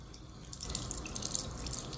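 A tap runs into a sink to rinse a mouth after toothbrushing, starting as a soft trickle and then swelling into a steady, close splashing stream with a few drips, with no voices.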